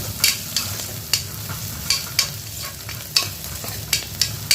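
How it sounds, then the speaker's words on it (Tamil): Dried red chillies and onions sauté in a pan for a goat intestine fry, a loud sizzle punctuated by regular, rhythmic spatula scrapes every half second or so, close and with no voices. "வரமிளகாயும் சேர்ந்து நல்லா வதங்கணும்."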